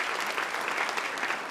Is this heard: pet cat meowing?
no